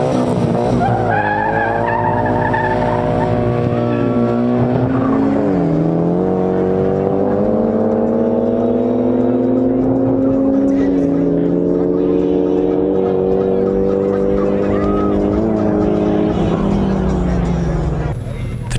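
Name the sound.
Nissan Silvia S15 and Skyline drag racing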